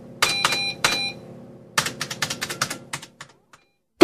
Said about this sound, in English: He was typing a kind of code on the screen.